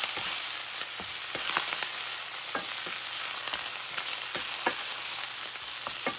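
A ham, pepper and onion omelette frying in a pan, a constant close sizzle with occasional scraping or stirring clicks, no voices.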